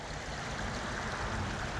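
Creek water flows steadily nearby, a continuous broadband rush and babble at moderate level with no other sounds standing out.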